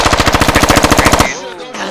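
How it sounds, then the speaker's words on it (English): Loud, rapid automatic gunfire in the shooter game Squad, a fast, steady burst of about twenty shots lasting over a second before cutting off into a fading echo. "Stop firing."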